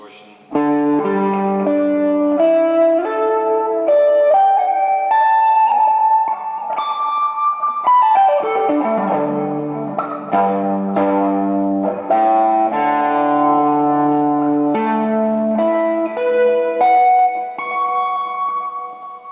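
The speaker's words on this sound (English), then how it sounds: "I can turn on the distortion." An electric guitar played through a distortion pedal rings out in sustained, overdriven single notes and chords for a long stretch, loud and close with a slight echo tail, no talking over it.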